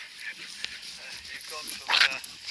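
Dogs barking in the background of an amateur radio antenna test, with a few short yips and one louder burst of barking under ongoing talk.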